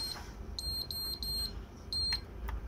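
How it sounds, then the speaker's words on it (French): Electric Cake Factory cake maker timer beeping in a kitchen: a series of short, high-pitched electronic beeps in two bursts, clear and fairly close over the low hum of a running tumble dryer. "le Cake Factory va bientôt sonner"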